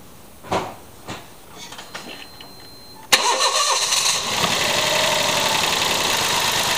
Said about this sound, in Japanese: エンジンをかけてバランステストいきましょう